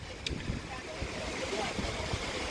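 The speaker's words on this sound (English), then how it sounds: "Very, very windy today." Strong wind blowing by a lake outdoors, a steady rushing, buffeting roar across the mic with brief gusty bumps, continuous and fairly close.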